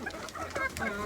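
Hens cluck close by in a short burst of several quick, overlapping clucks at fairly even loudness, with no talking.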